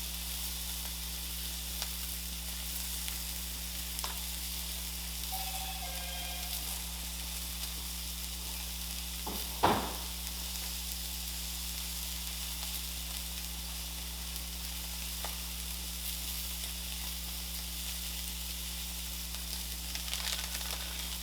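Pork chops sizzle in a pan with a constant, even crackle over a low steady hum, broken once by a single sharp clink partway through, and no one speaks.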